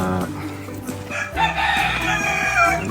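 Rooster crowing in a backyard free-range flock among chickens, ducks and turkeys, a drawn-out crow rising loud in the second half over softer clucking and farmyard background.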